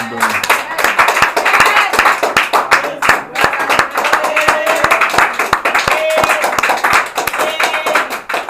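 A church congregation claps and applauds steadily in honour of men of God, dense rhythmic hand claps filling the room throughout, with voices calling out beneath.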